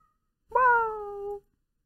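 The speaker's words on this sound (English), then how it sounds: "I'm being chatted up by our cat." A pet cat gives a single clear, drawn-out meow, close and distinct against an otherwise quiet room, lasting just under a second with no talk over it.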